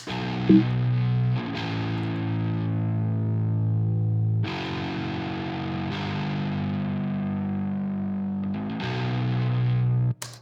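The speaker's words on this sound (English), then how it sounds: "With the power chords, we're trying to get some of the gnarly fuzz" Distorted electric guitar power chords played through Marshall amp simulations with gnarly fuzz. A few loud, sustained chords ring out and decay one after another, each fresh strum cutting in sharply.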